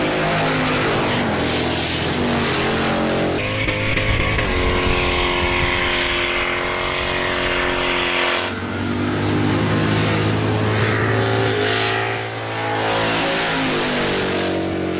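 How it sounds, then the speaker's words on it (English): Hot rod cars revving hard side by side during a burnout at a drag week event, loud sustained engine roar with shifting pitch and tire noise, close and continuous for the whole stretch. "they'll be side by side, racing while doing a burnout"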